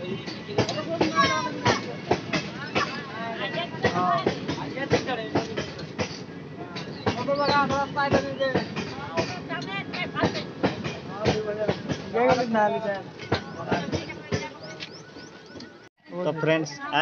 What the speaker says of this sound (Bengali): আরেকটা ট্রেন আসছে এদিক থেকে, তারপরে গেট ওপেন হবে